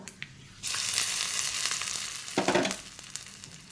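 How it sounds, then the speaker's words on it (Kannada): Tempering spices for onion-tomato chutney hit hot oil and burst into a loud sizzle that keeps crackling, with a second sharp flare of frying partway through. "ನೋಡಿ ಈಗ ಒಗ್ಗರಣೆ ಆಯಿತು."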